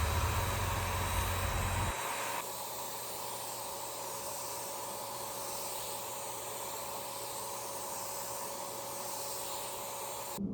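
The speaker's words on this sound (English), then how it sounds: "I'm going to go ahead and spray the second one in much the same way" After a brief low rumble, a paint sprayer gives a faint, steady hiss that runs evenly and uninterrupted to the end.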